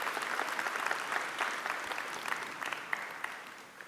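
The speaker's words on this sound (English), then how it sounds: "I invite another round of applause for our master's and postgraduate certificate" At the UCCI 2026 commencement ceremony, an audience gives sustained applause for master's and postgraduate certificate candidates, a steady wash of clapping that fades slightly toward the end.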